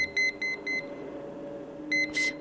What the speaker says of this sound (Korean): 삐삐 울렸다